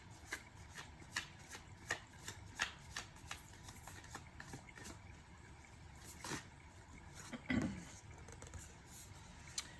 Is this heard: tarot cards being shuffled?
yes